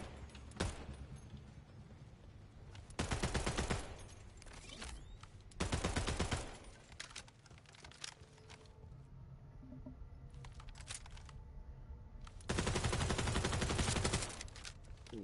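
Rapid SMG fire in the video game Borderlands 4, several loud sustained bursts of a second or two each separated by quieter stretches of game sound and mechanical clicks.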